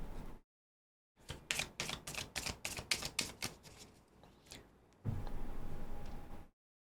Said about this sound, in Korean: 이거는 카드를 제가 조금만 더 뽑아보도록 할게요